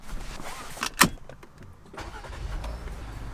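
A Jeep Gladiator truck starts up with a sharp click and a brief whir, then its engine settles into a low rumble as it begins to pull away, heard up close without talk.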